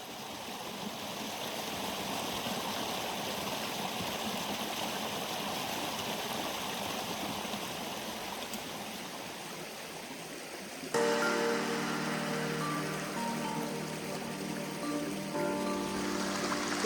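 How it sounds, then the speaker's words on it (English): Stream water rushes and burbles steadily nearby during a woodland stream crossing in the PA Wilds in fall, a continuous broadband flow that turns sharper and more gurgling in the last few seconds. "So we're just about finished crossing the stream."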